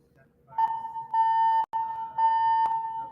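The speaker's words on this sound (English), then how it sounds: "They're doing like practice testing the fire alarm." Fire alarm under test inside a building, a steady electronic tone sounding in several bursts with brief gaps, loud and close over faint background chatter.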